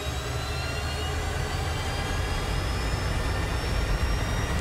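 The simulated jet engine of a DC Designs Harrier II in Microsoft Flight Simulator 2020 roars steadily as it throttles up, a loud continuous rumble with a whine that rises slowly.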